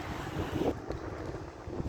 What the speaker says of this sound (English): The weather today is windy